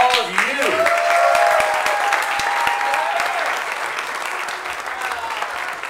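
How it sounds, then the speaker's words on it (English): An audience at a Harley-Davidson charity motorcycle ride event for St. Jude breaks into sustained, loud applause, with a voice talking over the clapping at the start. "Big round of applause for all of you."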